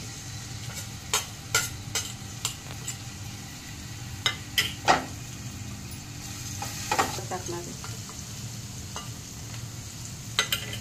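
Ginger, garlic and chili thecha fry in a ladleful of oil for patodyachi bhaji, a soft sizzle beneath repeated sharp clinks and scrapes of a spoon stirring the pan, while someone talks over it.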